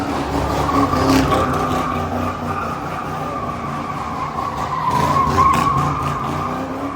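Car spinning out with tires skidding at a Houston car meet, a sustained loud screech and engine roar that swells again near the end, with no talking.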